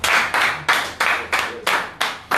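Loud rhythmic clapping at a live foundation event, a group striking hands together in seven strong, evenly spaced claps, each with a bright smack and a short reverberant tail, close and dominant with no talk.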